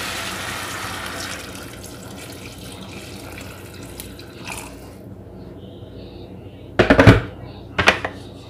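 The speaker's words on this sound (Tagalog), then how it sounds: "Lalagyan ko po ng tubig" Tap water runs into a cooking pot at home while a dish is being prepared, a steady splashing flow under quiet background, followed by two short louder gushes near the end.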